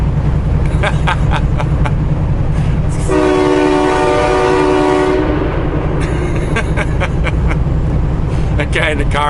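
Inside a tunnel, a train horn mounted on a semi truck sounds one loud, sustained chord of about two seconds over a constant engine and road rumble, with talking before and after the blast.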